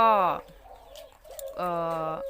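A spotted dove coos nearby in two deep, resonant calls separated by a brief pause, with softer low notes in between, clear and close with no talking.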